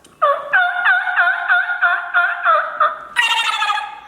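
Mouth call imitating a turkey gobble: a rapid, rattling string of high, warbling yelps, loud and close, ending in a brief sharper burst, with no voices.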